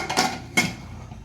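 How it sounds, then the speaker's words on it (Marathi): Lid being fitted onto a pressure cooker while cooking kaleji fry, two quick metallic clanks close together, close up and fairly loud, with no talk. "आता कुकरला झाकण लावून टाकायचं"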